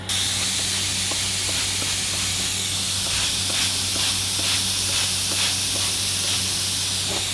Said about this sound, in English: I'm just giving this a real good spray down